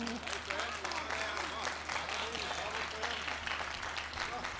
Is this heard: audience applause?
yes